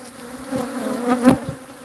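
A honeybee colony hums inside a wall, a steady close buzz with a few louder passes as individual bees fly near.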